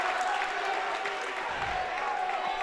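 Basketball crowd at a game cheering and applauding in a steady, continuous wash of noise, with indistinct voices mixed in throughout.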